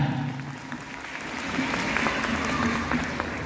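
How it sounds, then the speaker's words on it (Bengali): An audience at a makeup masterclass claps for Susmita, a steady wash of applause that swells slightly in the second half, with a faint voice underneath. "প্লিজ সুস্মিতার জন্য একটু জোরে হাততালি হয়ে যায়"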